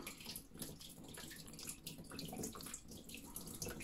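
Water pouring and splashing steadily from a burst electric water heater that has split open at the top, a continuous faint hiss and trickle with no voices.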